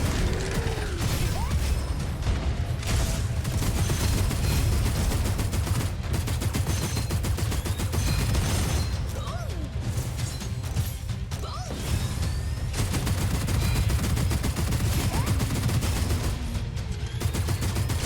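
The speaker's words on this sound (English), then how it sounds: "Minigun right there." A minigun in the video game Gunfire Reborn spins and fires in a dense, continuous mechanical rattle, loud and sustained with only brief breaks between bursts.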